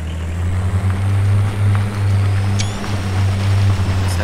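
In the Spintires MudRunner video game, an FJ Cruiser engine hums low and steady while the truck pushes through a river, with water sloshing around it and no voices.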